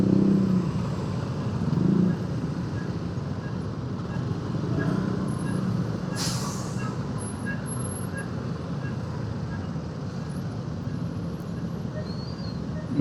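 A motorcycle crawls through heavy, jammed Jakarta traffic among buses, with a steady wash of engine and road noise, a brief air-brake hiss midway and distant horns.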